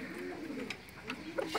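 A racing pigeon, a bred homing bird kept by a Nueva Ecija breeder, coos softly a few times in a loft with faint background noise and no talk.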